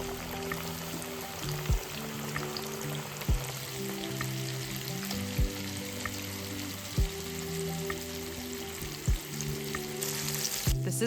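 Chicken wing pieces sizzle steadily in hot vegetable oil, a dense crackling hiss throughout with occasional soft knocks and a gentle melodic tune underneath.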